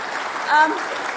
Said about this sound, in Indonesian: kita bisa kasih tepuk tangan untuk Pak Anies Baswedan